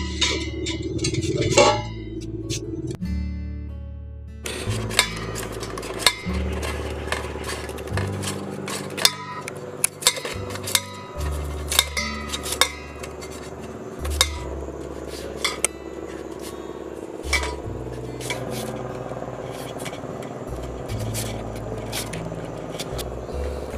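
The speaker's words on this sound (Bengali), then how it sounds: "আলুটা কেটে নিচ্ছি" Potato slices are cut against a metal grater, sharp scraping clicks and metallic taps repeating at an uneven pace over soft background music, with no one talking.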